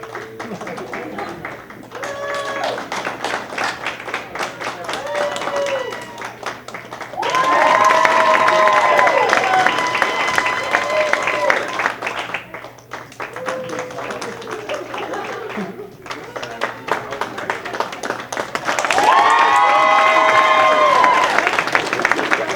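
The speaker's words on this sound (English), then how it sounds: "I'd like you to vote by applause as I walk past each person." Audience at a holiday party applauds and cheers in repeated waves to vote for a best singer, loud crowd clapping swelling and fading under a voice and music.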